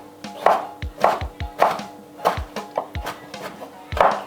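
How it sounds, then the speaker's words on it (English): A knife chops tomatoes into small cubes on a cutting board for a Kenyan dish, with sharp close knocks at a steady rhythm of roughly two per second, wet squishy cuts between the board hits and no talk. "I'm chopping them into smaller cubes like that"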